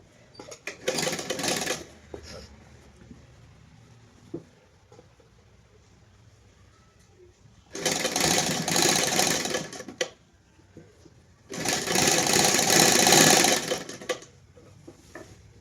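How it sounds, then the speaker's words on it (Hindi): A home sewing machine stitches a pocket onto a pair of trousers in three loud, steady bursts, with short pauses and faint handling noises between the runs of stitching. "यहाँ से इसमें सिलाई लगा दूंगी।"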